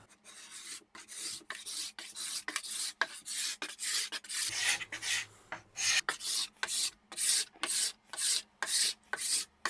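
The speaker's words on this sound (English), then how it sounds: "Going to do a little bit of scraping." Repeated rhythmic scraping strokes on the wood veneer of a tea trolley under restoration, a steady series of rasping passes close by with brief gaps between each stroke.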